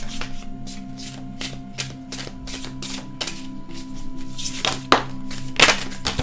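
Tarot cards riffled and shuffled in quick repeated bursts, close and fairly loud, with a steady low hum underneath.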